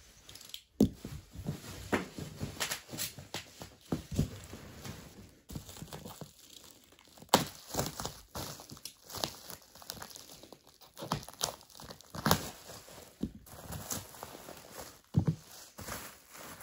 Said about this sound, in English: A bunch of paper.